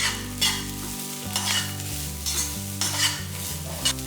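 Grated coconut sautés in a pan for a prawn and brinjal gravy, with a soft frying sizzle under repeated scraping stirs of a spatula at a steady rhythm.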